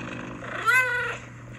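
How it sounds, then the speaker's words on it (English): A single drawn-out cat meow played as an audio sample by Siri on an iPhone running iOS 14.4 beta, clear and close over a faint steady hum. "A cat sounds like this."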